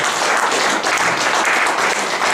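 Church congregation applauds steadily in dense, continuous clapping to acclaim the Lord, loud and close, with no voices above it.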